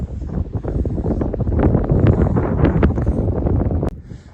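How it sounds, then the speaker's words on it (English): Gusty wind on a snowy winter mountain top near a fire lookout buffets the microphone in rapid, rough low bursts for about four seconds, loud and close, then briefly drops away. "Windy up here."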